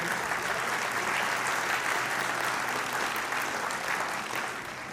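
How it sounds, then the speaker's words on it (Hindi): Audience at a Sindhu Darshan Yatra gathering in Jammu applauding themselves, a dense, steady wash of clapping from many hands that tapers slightly at the end. "आप सभी अपने लिए ही एक बार तालियां बजाएं"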